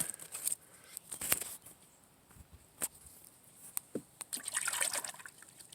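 Water trickles and splashes as a bamboo clone cutting is rinsed off, quiet intermittent dribbling with a few louder splashes near the end.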